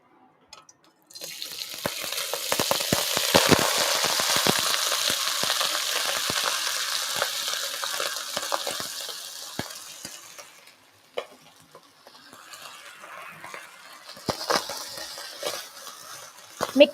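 Rice frying in grapeseed oil in a pan, with a loud, bright sizzle and stirring scrapes for about ten seconds, then a quieter, sputtering sizzle with a few more stirs, close up and with no talking.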